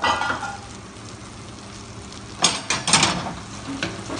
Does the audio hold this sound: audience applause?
no